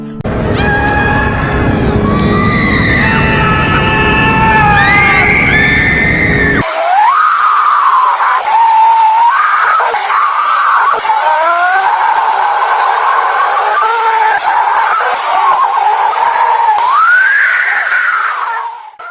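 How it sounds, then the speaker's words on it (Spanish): A loud, dense roar of countless people screaming and wailing in hell, a sound effect of anguished cries that starts as a layered chorus of shrieks, then becomes a sustained, wavering mass of yelling that carries on throughout. "Todo lo que se escuchaba eran gritos, billones de personas gritando en este lugar."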